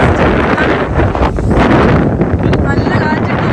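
Strong wind blowing outdoors in Russia buffets the microphone in a steady, loud, broadband roar that rises and falls slightly throughout.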